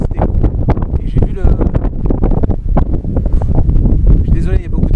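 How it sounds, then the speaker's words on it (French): Strong wind buffets the microphone outdoors on a hillside in Corsica, a loud, continuous low rumble with gusts, while someone talks over it throughout. "il y a beaucoup de vent"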